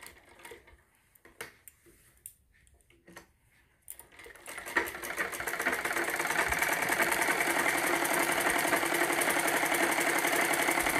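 Sewing machine stitching a bra cut blouse: a few scattered clicks and handling taps, then the motor starts and settles into a fast, steady rattling hum, close and even.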